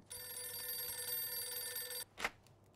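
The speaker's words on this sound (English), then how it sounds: "Answer the phone." Telephone ringing in the video game Mafia 2, a steady electronic bell tone held for about two seconds, then cut off and followed by a brief handset clatter.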